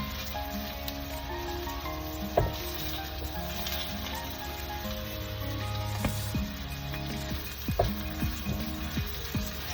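Onions frying in a pan for mushroom masala, a steady close sizzle with crackling pops, some brief clinks and scrapes, and faint background tones throughout.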